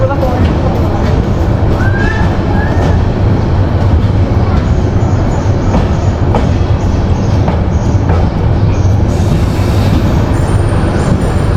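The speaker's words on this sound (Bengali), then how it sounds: "একদম সঠিক টাইমে সাতটা চল্লিশ মিনিটে আমাদের ট্রেনটি পৌঁছেছে" A train rolls into a station with a loud, steady rumble and clatter, brief high squeals of brakes, and murmuring voices underneath.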